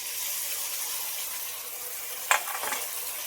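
Steady sizzling of spice paste frying in a hot pan for chilli prawns, with a brief clatter and scrape of stirring near the end.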